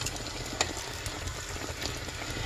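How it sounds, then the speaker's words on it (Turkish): Soft, continuous bubbling sizzle of dough frying in oil in an aluminium pot, with faint crackles and pops, quiet and close. "alüminyum kızartma tenceresinde kızartıyorum"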